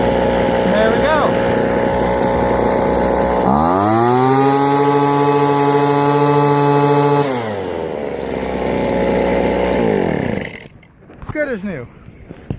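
A Sears Poulan leaf blower's small two-stroke engine, freshly repaired, is pull-started and runs loud and close, revving up to a steady high whine, settling, then cutting off near the end.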